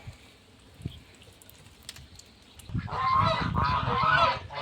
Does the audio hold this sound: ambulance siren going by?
no